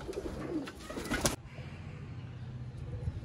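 Pigeons at a rooftop loft for a kabootar bazi flying game, cooing softly in low repeated calls over steady outdoor background noise, with a brief louder rustle or clatter near the start.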